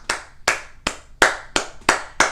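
Seven sharp hand claps in a steady, evenly spaced rhythm, each crisp and close with a short decay, no voices present.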